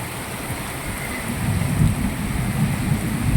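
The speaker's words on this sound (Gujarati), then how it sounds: "જોરદાર ગાજે છે" Steady heavy monsoon rain hiss in Moti Gop, Gujarat, with a deep low rumble of thunder swelling midway and continuing, fairly loud, no voices.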